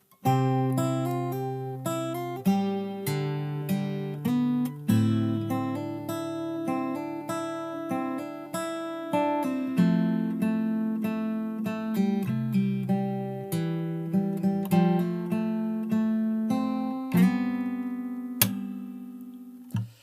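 A fingerstyle acoustic guitar plays the first half of a chorus alone, with plucked melody notes ringing over a steady bass line at an even, moderate pace.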